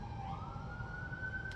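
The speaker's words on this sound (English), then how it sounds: "You hear the sirens going off right while I'm talking." An emergency vehicle siren wails outside with a slowly rising tone, faint and distant behind steady background noise, no talk.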